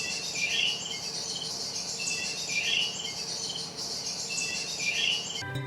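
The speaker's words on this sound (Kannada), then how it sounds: "ಬರ್ಡ್ ಸೌಂಡ್ ಜೊತೆಗೆ ಅಲೆಗಳ ಶಬ್ದ ಬರ್ತಾ ಇದೆ" Birds chirp in repeated bright bursts over a steady hiss of sea waves at a Havelock Island beach in the Andaman Islands, continuous and moderately loud, with no talking.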